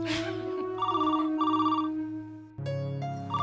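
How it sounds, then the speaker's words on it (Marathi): A telephone bell rings indoors in a family home, with repeated bursts of bright electronic trilling separated by short gaps. A low steady hum runs underneath, and the ringing stays moderately close. "घे लवकर, वीरेंचाच फोन असेल"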